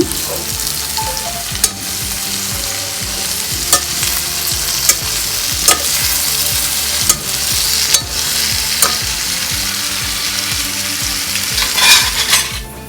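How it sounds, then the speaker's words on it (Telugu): Spinach and onions fry in a pan with a steady sizzle while a utensil stirs them, giving repeated scraping and clattering strokes. The sound is close and fairly loud throughout, with no talking. "మిగతా ఆకు కూడా వేసుకొని కలుపుకుందాము"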